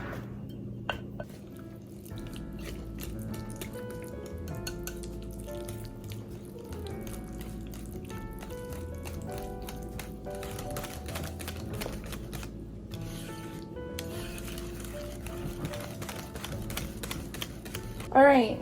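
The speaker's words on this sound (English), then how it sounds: "now we're gonna whisk that up" Milk, egg, vanilla extract and sea salt are whisked in a bowl, a quick, rapid clicking and tapping that runs steadily for a long stretch at low volume, with a voice speaking briefly at moments.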